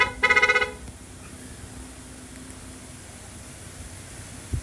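A loud horn added to a Honda ADV 160 scooter gives one short pulsing blast near the start, then low background noise and a faint click at the end.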